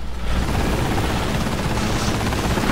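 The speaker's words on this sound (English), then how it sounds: "I just peeped that helicopter was shooting at me," A helicopter fires at the player in the video game Gears of War: Judgment: a loud, dense wash of rotor roar and rapid gunfire that runs continuously without a break.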